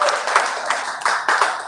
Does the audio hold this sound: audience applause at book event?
yes